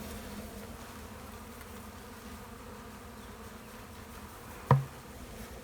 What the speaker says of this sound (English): all the bees flying around will seek out her pheromone and they'll come find her